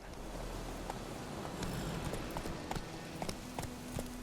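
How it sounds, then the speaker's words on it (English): Geralt's horse Roach clip-clopping along in The Witcher 3, a steady run of light hoof thuds under a constant ambient wash of game wind and rustle. "Luckily, Geralt can always count on his horse Roach to help him in his travels."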